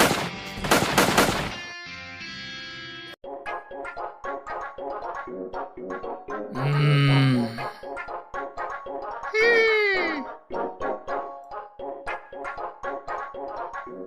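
Rapid cartoon gunfire from an animated short rattles off in long, close, evenly spaced bursts, broken by a short electronic tone and a couple of squealing swoops, with no talking over it.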